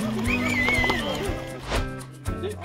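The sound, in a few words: horse climbing uphill, neighing and hooves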